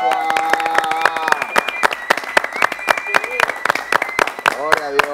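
Applause breaks out for a caller on a Dominican radio program, sharp claps mixed with steady, overlapping talk and a sustained tone in the background.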